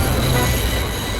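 Runaway train hauled past by Gordon Highlander, a steady loud rumble of wheels and rail noise with a faint high squeal, continuous throughout the short stretch with no voices.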